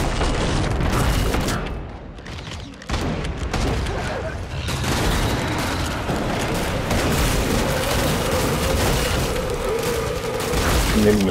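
A nail bomb blasts in the co-op shooter Killing Floor 2 amid dense gunfire, a heavy boom followed by constant loud shooting and mechanical clatter throughout, with players talking over the din.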